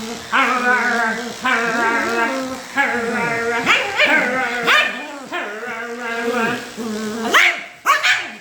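A shih tzu barks and howls near and loud in a series of yips, whimpers and drawn-out howls, while a person nearby howls along with it.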